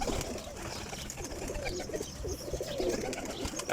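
Pigeons coo softly and repeatedly in a rooftop loft, low murmuring calls overlapping against a busy background hum.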